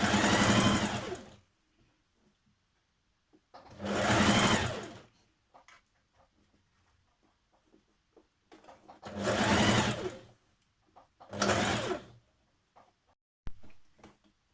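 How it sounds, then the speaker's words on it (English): Sewing machine stitching a dress facing in place at the centre front, running in four separate loud bursts of steady whirring, with quiet pauses between them and a short final blip. "Now we're going to stitch that in place."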